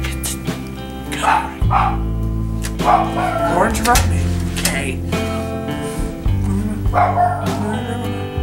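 A dog barks and yips in short, loud, repeated bursts over steady music, with people talking at times.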